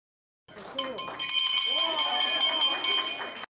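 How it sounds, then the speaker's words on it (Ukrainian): A school hand bell rings rapidly and continuously with bright metallic clanging, close by, as voices talk alongside it at a last-bell graduation ceremony. "Гучно в останні випускники дзвонять в шкільний дзвоник."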